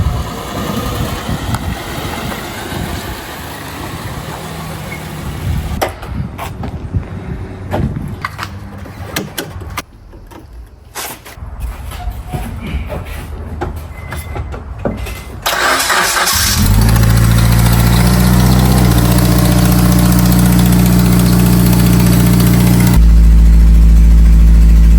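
A project car's engine cranks and catches after several seconds of handling noises. It then settles into a loud, steady idle with an exhaust-leak rattle up front, growing louder near the end.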